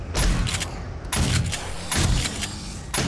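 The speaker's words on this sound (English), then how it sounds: "We're gonna probably need to use shotgun on this guy." Shotgun blasts in the zombie survival video game 7 Days to Die, four loud, close booming shots spaced irregularly about a second apart, with no talking.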